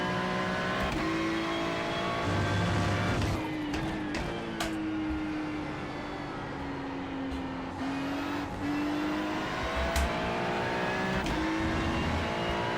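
Porsche race car engine in the iRacing video game, a sustained high-pitched drone with rising and falling revs and quick gear changes, steady and fairly loud with no talk.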